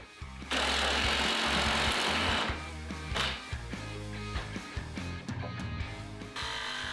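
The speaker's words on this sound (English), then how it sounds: "I had to switch to both a jigsaw and a Dremel tool to sneak in cuts between the pallet boards" A jigsaw and a Dremel rotary tool cut between the boards of a pallet for an outdoor table, giving a loud, steady buzzing run that stops, then gives way to shorter, choppier cutting bursts.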